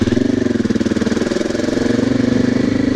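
A motorcycle engine running with the clutch pulled in while cornering drones steadily up close, a low, even hum with a rapid pulsing throb and a faint rush of wind.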